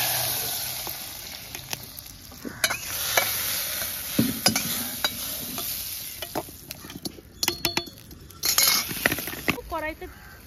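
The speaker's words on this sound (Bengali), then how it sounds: "এবার আমি ফোড়ন দেওয়া তেলটা এবার আমি হাঁড়িতে দিয়ে দেবো" Spiced tempering oil is poured into a pot of plain khichuri and sizzles in uneven bursts, mixed with stirring and clinking of a utensil, loudest toward the end, with a brief voice at the close.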